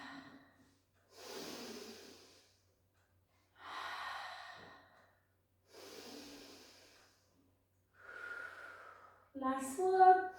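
Breathing during an intermediate Pilates exercise: a slow series of four soft, airy breaths spaced a couple of seconds apart, close and fairly quiet, ending in a brief louder voiced burst.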